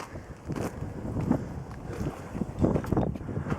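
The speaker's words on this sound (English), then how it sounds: "Not sure if you can hear me right now because it's very windy." Gusty wind buffets the microphone, producing a continuous low rumbling roar that swells and fades, loud and close, with no clear speech.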